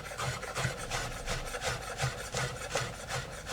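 A knife finely chops shiitake mushrooms on a board in quick, even taps, about three a second, close and fairly soft, with no voices.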